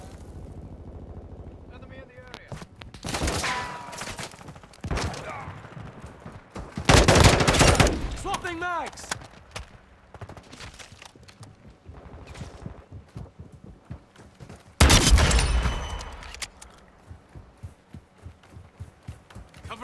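Gunfire in the Call of Duty: Modern Warfare II video game, repeated loud bursts and rapid shots with heavy blasts around the middle and later, mixed with game noise and some speech.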